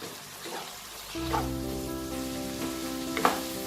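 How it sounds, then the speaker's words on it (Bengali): Vinegar and dark soy sauce being stirred into a hot pan while making Schezwan chicken fried rice, a steady close sizzle that swells after the first second, with a few scraping stir strokes and no voices. "1 চামচের মতো ভিনেগার দেব আর 1 চামচ ডার্ক সয়া সস দেব। দিয়ে খুব ভালো করে এটাকে মিক্স করে নেব।"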